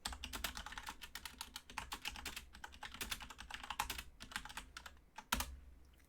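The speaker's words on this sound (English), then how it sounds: "Me typing in the chat" Fast, uneven clatter of keys on a computer keyboard, typed close up in bursts with brief pauses while chatting during a Battlezone game, with no voices.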